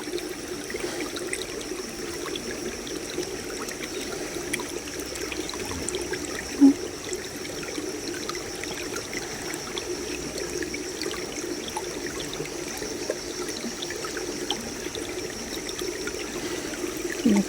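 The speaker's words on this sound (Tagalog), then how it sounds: "Maglaba tayo dito sa ilog guys" River water flows and trickles steadily during laundry in a river, a soft, continuous babble with one brief louder splash partway through and no talking.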